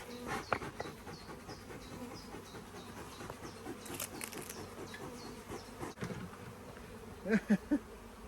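Honey bees buzz in a steady swarm around their hive on a UK bee farm in May, a dense close drone with individual bees zipping past and a few louder bumps near the end.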